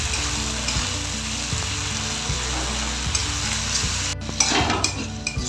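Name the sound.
frying tomatoes and whole green chillies in a pan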